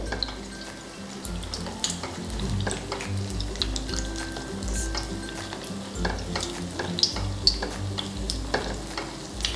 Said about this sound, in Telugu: మీడియం ఫ్లేమ్లో పెట్టుకొని ఫ్రై చేసుకోవాలి.